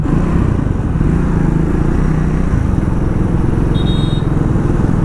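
A Triumph Speed 400 motorcycle rides through city streets, its engine a loud, steady, rumbling drone with wind buffeting close to the mic and a brief high beep near the end.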